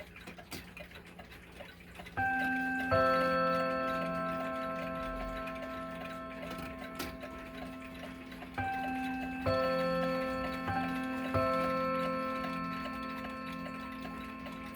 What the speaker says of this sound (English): It's an 8-day going wall clock, wag on the wall, and it has a bim bam chime